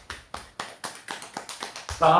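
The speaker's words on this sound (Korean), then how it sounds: "여러분들 우리 박수 드립니다" A lecture audience in a Korean fortune-telling class claps in a quick, steady rhythm of about eight crisp claps, fairly close, before a voice starts speaking.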